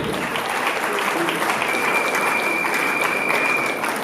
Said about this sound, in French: Nous allons les applaudir, s'il vous plaît. Merci d'applaudir